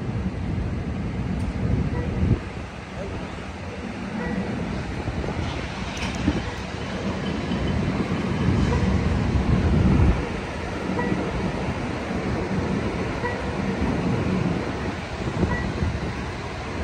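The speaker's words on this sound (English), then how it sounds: "All right, people, let's go. This train is departing." An Amtrak Capitol Corridor passenger train departing Emeryville station rumbles steadily and gathers speed, with a low continuous roar and occasional clanks, heard from close by.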